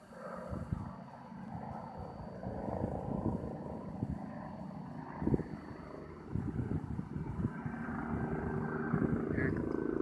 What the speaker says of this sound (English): There's the Chinook.